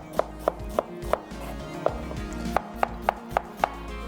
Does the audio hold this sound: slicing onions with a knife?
yes